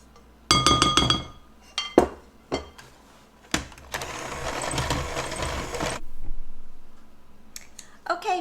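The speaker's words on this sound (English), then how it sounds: "And then we're just going to give this a little mix." Muffin batter mixed in a glass bowl: sharp clinks and knocks of a utensil against glass, then a few seconds of steady scraping stirring, followed by more scattered taps, close and fairly loud.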